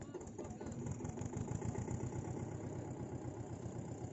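A tractor engine idles steadily at a Republic Day cricket match at NTPC Ramagundam, giving a continuous, fairly loud low rumble with a rapid, even throb and no voices.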